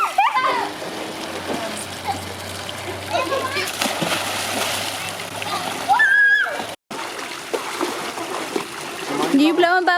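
A child swimming splashes and sloshes water in bursts at close range, with children's and adults' voices chattering over the watery noise throughout.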